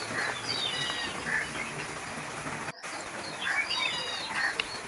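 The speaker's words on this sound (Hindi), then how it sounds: "कालू कौवा बुआजी उड़ते हुए मीठी के घोंसले के पास वाले नीम के टहनी पे बैठ जाती है" Soft, steady flapping of a crow's wings with faint chirps and bird calls, a brief dropout midway, then the fluttering continues close by.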